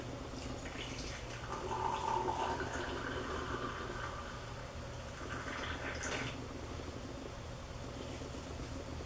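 Hot spiced drink with whole spices poured from a pot's spout through a strainer into a mug, a steady soft trickle and splash of liquid running for several seconds at low level.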